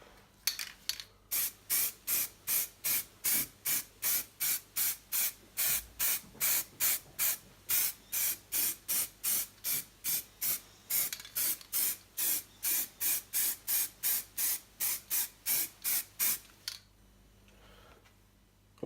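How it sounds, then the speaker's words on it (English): Aerosol spray paint on an RC crawler body panel: a long run of about thirty short, even hissing bursts in a steady rhythm, close and clear, then a brief pause before stopping. "we're going to paint this one side now"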